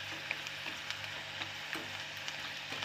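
Puffed rice kachri frying in a pan, a soft, steady sizzle with occasional light ticks and scrapes as they are turned.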